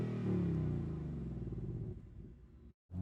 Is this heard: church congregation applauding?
no